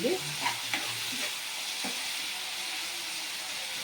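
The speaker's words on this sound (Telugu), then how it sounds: "టమాటా, మనకు టమాటా మెత్తగా ఉడకాలి." Tomatoes softening in a hot pan for rajma masala curry, with a few clinks and scrapes of stirring at the start over a steady close sizzle that carries on alone.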